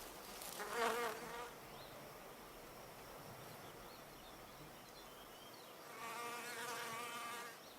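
A male wasp buzzes near an orchid, its wingbeat whine rising close at the start, fading to a faint background hum, then returning louder near the end.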